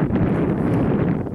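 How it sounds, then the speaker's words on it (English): Strong wind buffeting the microphone outdoors at a model airplane flying field, a dense continuous low roar and rumble that fills the short stretch without a break. "But it's very windy"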